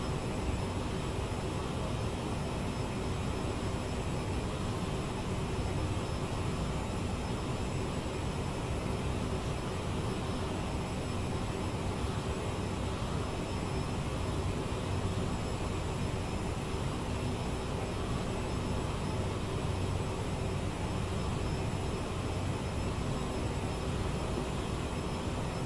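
Steady, continuous roar of CRJ jet engines at climb thrust in Microsoft Flight Simulator 2024, a broad even drone with a faint high whine, unchanging throughout with no talk.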